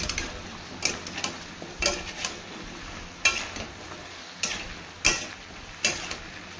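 Spices and salt fry in a pan for a chhana dalna, with a spatula scraping in steady strokes about once a second over a faint sizzle.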